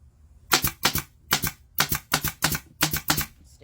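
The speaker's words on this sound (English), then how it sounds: "Staple in place." A staple gun fires about ten sharp, evenly spaced snaps, pinning upholstery fabric onto a dining chair seat; each hit is close and loud, with no talking.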